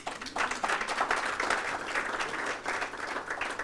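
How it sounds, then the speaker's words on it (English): An audience at the African Development Bank annual meetings claps steadily for a few seconds, a brisk, even patter of many hands in a hall with no talking over it. "Clap for him also."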